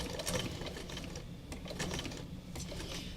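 A sewing machine stitching around a piece of fabric, a fast, steady mechanical chatter with brief pauses and resumptions, heard close and alone.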